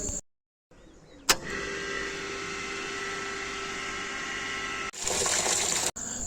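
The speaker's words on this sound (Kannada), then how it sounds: "ಈ ಬಾವಿಯಾಗ ನೀರು ಇದ್ವು ನಾನು ಈಗ ಮೋಟ್ರ್ ಚಾಲು ಮಾಡಕ್ಕೆ ಬಂದೀನಿ ನೋಡ್ರಿ" An electric pump motor on a farm well starts with a sharp click and settles into a steady, close hum and whine, then shifts to a louder rushing tone near the end before briefly cutting out.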